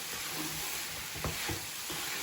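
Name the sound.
stirring pumpkin in ghee in a pan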